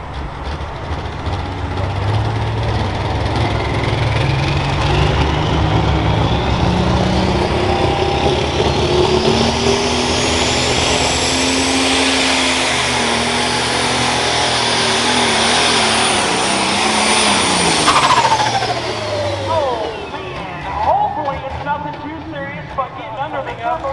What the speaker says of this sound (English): Starting line, Monty McCoy, John Deere 6030, better known as Dusk Till Dawn.